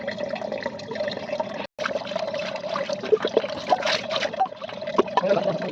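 Pieces of cut fish being washed in water, a continuous sloshing and trickling of water with small splashes, close by, brief pause partway through, then steady rinsing again.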